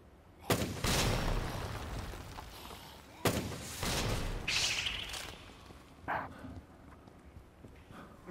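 Two loud blasts of a rocket launcher in the Dead Rising Deluxe Remaster game, each a sharp boom with a long roaring tail, about three seconds apart, followed by fainter scattered impacts.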